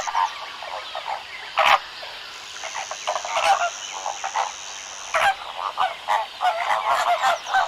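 Honking calls of flamingos, a burst of loud, raucous goose-like cries repeating irregularly alone with no talk, sharp onsets standing out near 2 and 5 seconds.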